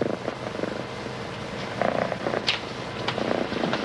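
Steady, close cat purring with a soft rhythmic rumble, continuing alone throughout, from the cartoon Les 10 Vies du Chat.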